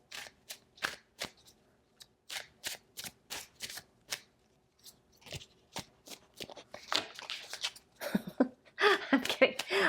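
Tarot cards shuffled by hand, a string of crisp riffling bursts and short flicks in irregular rhythm, close and clear, with a voice talking over the last couple of seconds.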